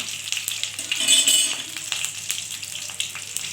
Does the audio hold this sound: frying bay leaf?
yes